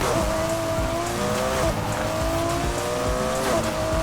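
A Porsche 911 RSR races in Need For Speed Heat, its engine droning loud and steady with rising gear pulls and tires squealing through corners.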